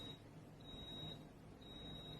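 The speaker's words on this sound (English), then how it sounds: "it beeped to let me know it was finished" A cooking blender beeps repeatedly when finished, in high-pitched tones, two longer beeps spaced apart over a faint low hum, no talking.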